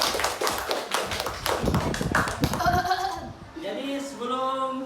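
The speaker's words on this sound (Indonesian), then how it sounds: "Tepuk tangan." A classroom of fourth-grade pupils claps hands in a quick rapid patter of taps for about three seconds, then the clapping fades as voices sing and call out over it.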